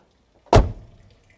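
A single sharp, solid clack of the door lock on a 1976 Mercedes 280 SE W116 as the door shuts, close by, with a brief low thud decaying in an otherwise quiet setting.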